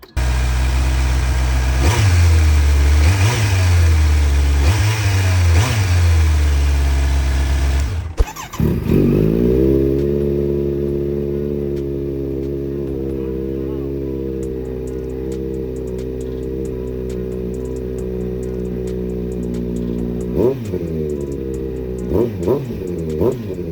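A Kawasaki Z900 motorcycle with a Leo Vince exhaust and airbox removed fires up for the first time, loud close revving at first, a sharp start, then a steady rumbling idle with a few throttle blips near the end.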